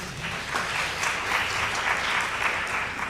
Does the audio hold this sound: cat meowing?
no